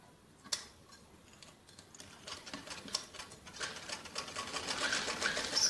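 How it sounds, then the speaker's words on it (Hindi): A sewing machine stitches across the ends of a doubled fabric strip cut for a jacket frock, a quiet ticking patter that builds into faster, denser stitching toward the end. "इसमें हम दोनों सिरों पे सिलाई लगाएंगे पहले"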